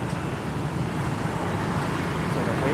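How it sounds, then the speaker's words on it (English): Calm ocean waves wash steadily onto a beach in Nha Trang, Vietnam, at sunrise, a continuous broad rushing wash with light wind noise and no distinct breaks, no voices. "So the waves are calm, there's people on the beach"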